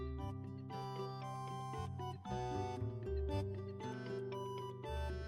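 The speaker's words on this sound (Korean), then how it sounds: "스핑크스에게서 전화가 왔습니다." A phone ringtone melody plays steadily for about five seconds, with layered musical tones for an incoming call in a mystery game. No one speaks over it.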